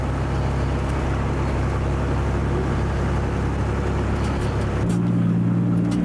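A 1981 Volvo F12 truck engine drones loud and steady while running in gear, with a slight shift in pitch near the end, heard from inside the cab without talk.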